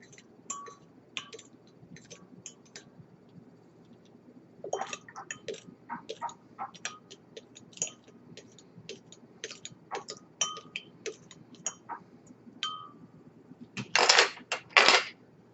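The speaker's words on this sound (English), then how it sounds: "We'll give each one of them a stir to dissolve it." A spoon stirring salt brine in glass pickle jars for lacto-fermented dill pickles, a run of sharp metallic clinks and taps against glass with pauses between, ending in a louder burst of scraping clatter.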